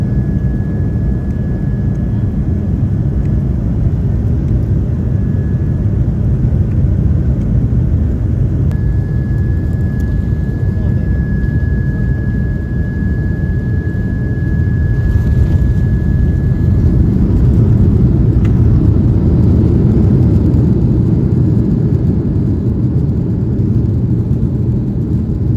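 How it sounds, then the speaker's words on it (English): A passenger airplane lands on runway 4 right at Newark, New Jersey, heard from inside the cabin as a loud, continuous roar of engines and airflow with a faint steady tone above it that swells slightly toward the end. "Enjoy our landing on runway 4 right."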